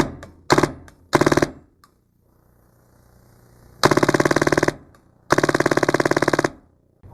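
A Tippmann 98 Custom paintball gun with a response trigger fires in rapid bursts: two short volleys, then two longer rattling strings of shots, loud and close, separated by quiet gaps.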